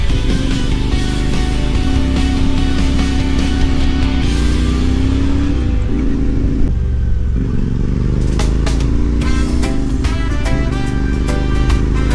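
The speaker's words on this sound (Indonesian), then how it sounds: "Mesin meraung pelan di pagi hari." A motorcycle engine drones steadily and loudly on a touring ride through country roads, holding a continuous roar with slight shifts in pitch and some clattering bursts near the end.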